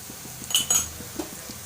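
A spoon stirs spices into egg curry in a pan, scraping and clinking against the metal in a few quick, close strokes with no talk over them.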